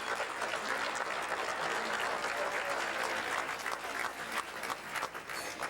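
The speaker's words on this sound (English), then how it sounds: "I think that does deserve a round of applause." An audience claps steadily at an awards presentation, a dense, sustained wash of applause filling the room from start to finish.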